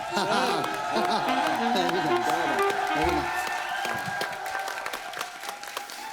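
Studio audience on The Kapil Sharma Show clapping loudly for a guest, a dense, continuous round of applause that gradually thins and fades while music and voices carry on underneath.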